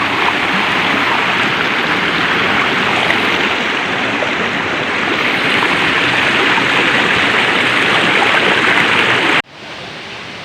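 Steady broadband rush of a stream flowing over rocks during a crossing in the Camiguin countryside, loud and close, continuous with no talk, cutting off abruptly near the end.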